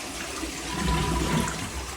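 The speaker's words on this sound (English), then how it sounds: "Wonder if that still flushes. Oh, first working toilet I've ever seen in an abandoned place." A toilet in an abandoned campus building flushes, a continuous rushing, gurgling wash of water that stays fairly steady and moderately loud throughout, with no talking.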